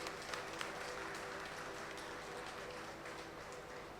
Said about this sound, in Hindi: एक बार तालियों के गड़गड़ाहट से स्वागत करिए।